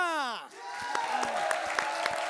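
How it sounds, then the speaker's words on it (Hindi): After a voice trails off, a burst of clapping starts up, many hands applauding steadily and fairly close. "एक बार जोरदार तालियां"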